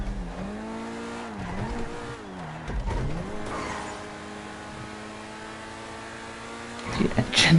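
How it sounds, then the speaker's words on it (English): A car engine in a racing video game hums steadily with rising and falling revs and a few pitch swoops, moderately loud, ending in a burst of harsher noise. "The engine noise is annoying."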